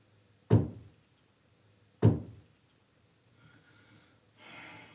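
Two sharp, isolated knocks on a hard surface about a second and a half apart, each ringing out briefly, heard during a paranormal investigation; faint rustling and a soft hiss follow.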